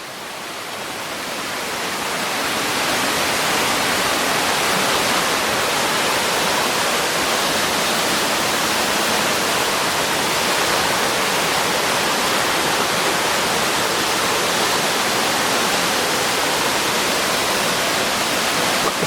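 Steady, broad rushing water pours over a waterfall, fading in at first and then holding loud and constant with no other sounds.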